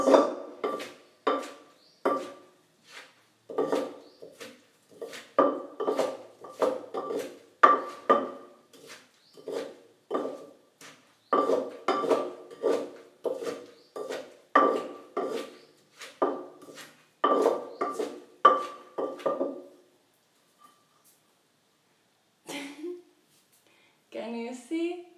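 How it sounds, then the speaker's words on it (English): Mango salad noodles being tossed with sauce in a bowl: repeated clinks and wet scraping strokes in a steady rhythm, moderately close, continuing for about twenty seconds before going quiet. "we're just mixing this, really combining it with the sauce"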